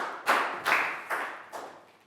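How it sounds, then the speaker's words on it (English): Claps during a Year 4 classroom science lesson: four separate, fairly loud claps spaced about every half second, each ringing briefly, with no voices. "High five and a big round of applause for Annette."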